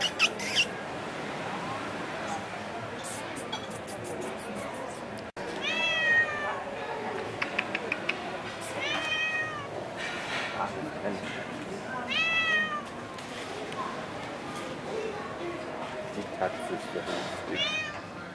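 Cat on La Palma meowing several times in short rising calls, mid-distance over steady outdoor background noise, with a person talking at times.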